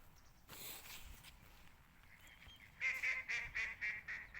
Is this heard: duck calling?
yes